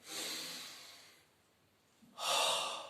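A person exhales through an open mouth during a Pilates exercise, giving a long airy breath out, a pause, then another strong breath, close and alone.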